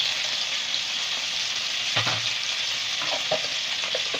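Chopped onion with ginger and garlic sizzling in a hot pan for jollof noodles, a steady close hiss with a few stirring scrapes and clicks partway through, no voices.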